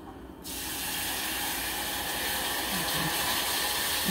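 Broth poured into a hot flour roux bursts into a loud hissing sizzle that starts abruptly and holds steady, a broad spray of steam noise with no talking.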